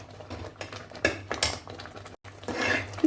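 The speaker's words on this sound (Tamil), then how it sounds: "நுரைச்சி வரும்போது நம்ம வந்து இப்படி கிண்டி கொடுத்துக்கிட்டே இருந்தால் போதும்." A frothing coconut burfi mixture is stirred in a pan, with scattered scraping and clinking of the spoon against the metal over a soft bubbling, close and uneven, with a short pause near the end.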